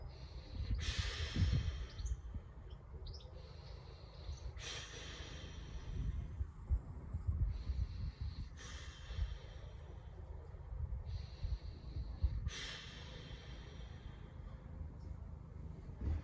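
Deep, slow breathing during a held floor exercise in a home workout, heard as soft, faint breaths repeating about every four seconds over a low steady room hum, with no talking.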